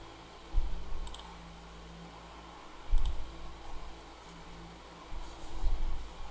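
Computer mouse clicks in a quiet room during software work, three separate short bursts of sharp clicks spread across the stretch, close and clear over a low background hum.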